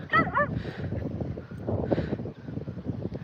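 A dog gives a few short, yipping barks and whines up close, with breathy noise and gusty rustling between them.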